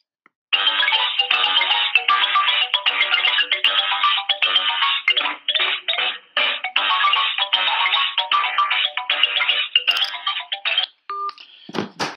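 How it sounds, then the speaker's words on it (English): A phone ringtone plays loudly in repeated electronic bursts for several seconds, then stops abruptly, followed by a brief rustle. "My phone is ringing again."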